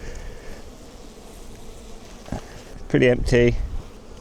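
Honey bees hum steadily around an opened early-spring production hive crusted with propolis, a continuous close buzz that persists while someone speaks briefly over it.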